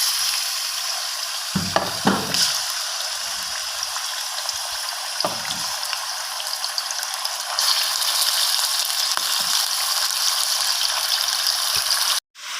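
Chicken pieces frying in hot oil for white korma give a loud, continuous close sizzle with brief dips and a few faint scrapes, cutting off abruptly at the end.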